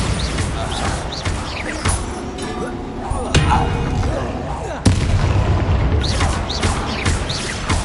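Bombarda blasting spells explode in a Hogwarts Legacy battle, giving loud, sharp booms, one a cracking blast partway through and another heavy hit later, over ongoing fight noise and effects.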